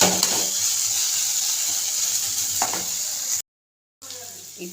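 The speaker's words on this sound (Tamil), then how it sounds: "வெண்டைக்காவை வதக்கினதை கொட்டியாச்சு. இப்போ நல்லா கிளறுங்க." Fried okra (ladies' finger poriyal) is stirred in a hot pan, with steady sizzling, scraping spatula strokes, and a brief cut to silence before the frying resumes.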